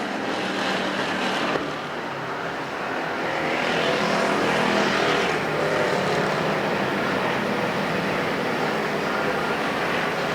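Factory stock race cars roar steadily through the main event at Perris Auto Speedway, a loud, continuous blend of several engines that swells briefly as the pack passes close, then settles back into a sustained drone.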